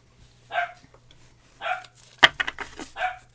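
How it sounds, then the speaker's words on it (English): A dog barking in another room, three or four separate muffled barks spaced about a second apart, moderately distant, in an otherwise quiet indoor space. "Sorry if you hear the dog."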